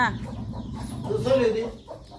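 A hen clucks close by, a few short throaty calls rising into one longer drawn-out cluck, with faint background sounds around it.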